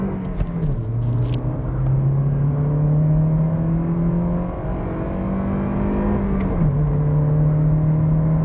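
A 2009 Kia Cerato 1.6 launches hard from a standstill with wheelspin, its engine note climbing through repeated rising sweeps and gear changes, loud and close with no speech.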